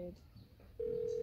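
A phone gives a brief tone, then a steady electronic ring tone sounds alone and fairly loud for its final half second, with faint room noise before it.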